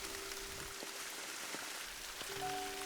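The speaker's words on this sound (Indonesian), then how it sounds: "Berjalan melawan derasnya hujan, menepis rasa takut akan petir yang sahut-sahutan" Heavy rain falls on a mountain trail up Gunung Ciremai, a steady broad hiss of downpour with occasional sharper drops, continuous and fairly distant with no voices.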